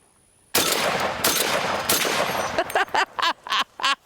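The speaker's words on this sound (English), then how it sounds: "I was not coming all the way out here with a fucking Robocop gun and not firing it from the hip" A Robocop .50 caliber replica gun fired from the hip at an outdoor range lets out a long, loud, sustained burst of automatic fire, then a few separate shorter bursts with brief gaps.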